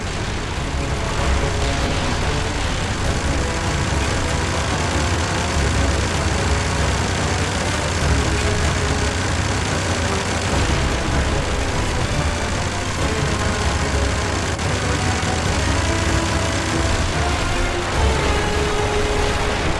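A fleeing vehicle's engines roar steadily and loudly through a Siberian chase in the game 007: Blood Stone, a thick, unbroken rumble with no let-up.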